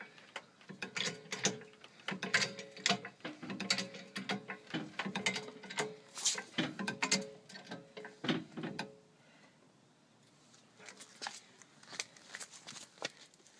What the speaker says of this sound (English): Go ahead and lift the car up roughly 1 centimeter off the ground.